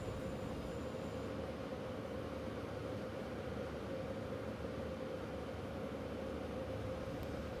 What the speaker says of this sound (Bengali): ট্রেন ক্রসিং দেখতে ভালোই লাগে, বেশ মোটামুটি ভালো স্পিডেই ট্রেনটা যাচ্ছিল